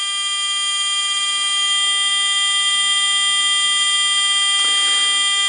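The buzzer on a fischertechnik driving robot sounds a continuous, shrill, alarm-like tone that holds steady and loud throughout, with faint mechanical clicks underneath.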